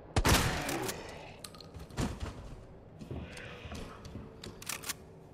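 Gunshots in Resident Evil 2 Remake, one sharp loud shot near the start followed by a few fainter cracks and mechanical clicks scattered through a quiet stretch.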